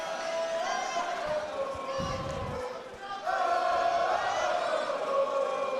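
A steady crowd roar fills a high school gym during a prep wrestling match between Holy Cross and Jesuit, swelling louder near the end, with voices talking over it.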